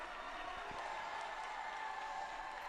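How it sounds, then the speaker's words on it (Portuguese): Faint, steady applause from a large congregation fills a cathedral in Istanbul during a prayer meeting with Pope Leo XIV, a diffuse, even wash of clapping heard from a distance with a reverberant hall tone. "e agora sim, então, os aplausos"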